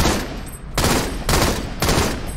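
Rapid gunfire from a Halo 2 Anniversary Team Swat multiplayer match, with several dense bursts of shots in quick succession, loud and continuous with no talking.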